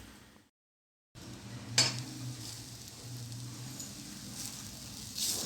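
Sword bean stir-fry with chilli powder being stirred in a pan, a soft steady sizzle with a few scraping strokes of the spoon against the metal, close up and without talk, after a brief silent gap.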